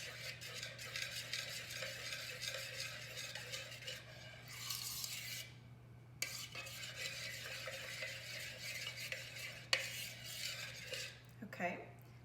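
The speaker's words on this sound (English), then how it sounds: "So give this a little mix." Spices for pumpkin bread, ending with cloves, are stirred in a bowl with a continuous scraping, rubbing motion, faint and close, with a few light clinks near the end.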